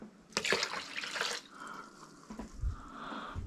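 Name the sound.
pouring cups of water into fish brine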